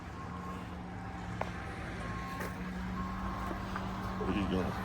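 A truck backing up at a construction site sounds a steady beeping reverse alarm, moderately distant over a constant engine and ambient rumble.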